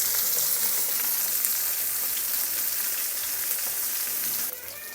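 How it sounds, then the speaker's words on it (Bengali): Pieces of catla fish fry in oil over medium heat, a loud, even, close sizzle with a fine spitting crackle that holds steady and then drops slightly near the end, with no voices. "মাছগুলো দিয়ে আমি মিডিয়াম হিটে সবগুলো ভেজে নেব।"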